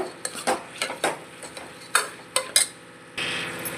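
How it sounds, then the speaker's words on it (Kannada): Horse gram fried in oil in a pan for sambar, heard as repeated sharp scraping and clinking strokes of a spoon against the pan over a faint sizzle, close up, ending in a broader rushing hiss, no speech. "ಎಣ್ಣೆ ಆದಮೇಲೆ ಇಲ್ಲಿ ತಗೊಂಡಿರುವಂತಹ ಹುಳ್ಳಿಕಾಳನ್ನ ನಾನು ಫ್ರೈ ಮಾಡ್ತೀನಿ"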